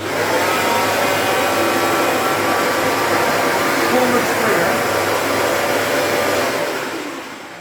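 A Bissell Revolution Pet carpet cleaner runs with a steady, loud motor whine and airflow roar that holds constant before tapering slightly at the end.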